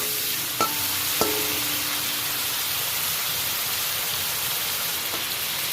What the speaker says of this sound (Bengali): সব মাছগুলো আমি তেলের মধ্যে দিয়ে দিলাম, নেড়ে ছেড়ে তুলে নেব।